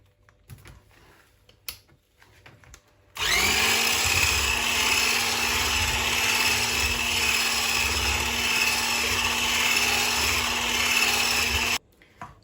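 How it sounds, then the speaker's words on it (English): Electric whisk beating placinte dough of flour, starting abruptly and running as a loud, steady high whine for about nine seconds before cutting off, with faint handling noises before and after. "get an electric whisk and make sure all the lumps are out of the placinte flour"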